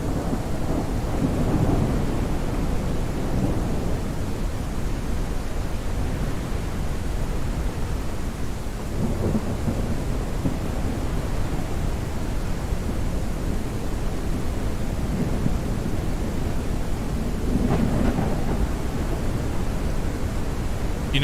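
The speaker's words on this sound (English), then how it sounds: "The thunder strikes, they always happen off camera." Thunder rolls through a rainstorm in a Hill Top Mine mining game, with deep rumbles swelling now and then over a constant loud hiss of rain and no voices.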